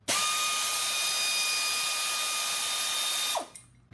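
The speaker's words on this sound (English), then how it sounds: "the tool that takes a 9/16 to get the nut off of it" A power tool fitted with a 9/16 socket whirs loudly and steadily for several seconds while spinning off a nut, then winds down and stops, with no voices.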